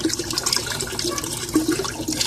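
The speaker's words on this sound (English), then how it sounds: "I tapped that and I ran a hose and it comes up here and it's sucking air." Water hissing and gurgling as a hose tapped off a T fitting draws air into a pressurized toilet tank, a steady, close, continuous rush with no talk.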